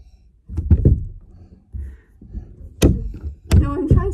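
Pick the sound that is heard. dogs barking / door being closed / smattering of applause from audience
door being closed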